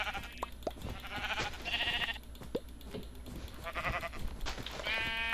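Sheep bleat repeatedly in the Minecraft video game, several wavering calls overlapping over a steady background hum, one near and loud, others fainter.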